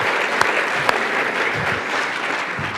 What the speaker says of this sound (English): I think we should give her a round of applause for doing such a good job.